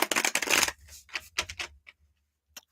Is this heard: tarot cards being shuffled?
yes